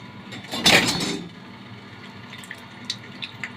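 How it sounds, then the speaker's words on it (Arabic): Cold water running from a kitchen tap while cow trotters are washed for a stew: a short burst of splashing flow into a sink, then a quieter steady trickle with small clinks and drips. "وهنحطها كده والمية باردة من الحنفية"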